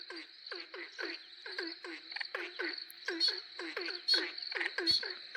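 Male frogs call at a breeding pond during spawning, giving short, repeated croaks in quick bursts. One call answers another nearby over a faint insect hum, with no talking.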